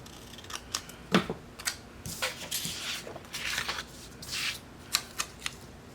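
Scissors snip repeatedly at paper with crisp, irregular cuts and rustling, close and fairly quiet, no talking.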